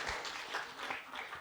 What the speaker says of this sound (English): Clap कर दो यार, बहुत अच्छी picture है.